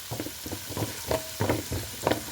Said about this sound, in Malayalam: ക്യാരറ്റ്, ബീൻസ്, ബീറ്റ്റൂട്ട്, കരിവേപ്പില, കടുക് മിക്സ് ചെയ്യുകയാണ് ഗൈസ്